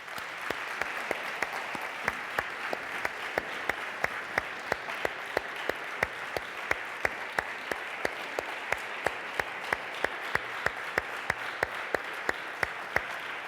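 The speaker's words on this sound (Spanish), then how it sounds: "Foto de familia y un aplauso final," Audience applause at a youth arts gala run by a regional youth institute, a steady wash of many hands with sharp individual claps standing out, continuing evenly throughout and close to the listener.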